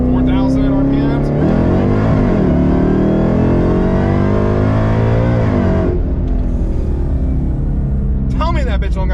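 A Ford Mustang GT500 making about 1000 wheel horsepower accelerates hard in second gear, a loud engine roar rising steadily in pitch for about six seconds and then cutting off, with people shouting and exclaiming over it.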